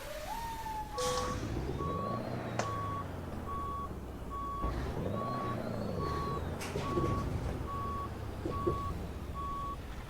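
Repeated truck reversing beeps from American Truck Simulator on the Washington map, an evenly spaced electronic tone sounding steadily over a continuous engine rumble, with no talk.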